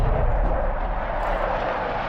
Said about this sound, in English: Is that an enemy air patrol? No, it's a friendly one.